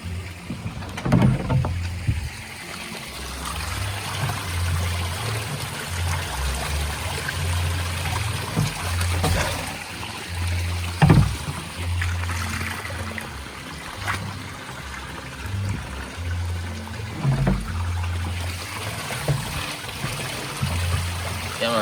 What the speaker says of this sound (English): I'm going to try to see if I can get rid of the soap out of the jug.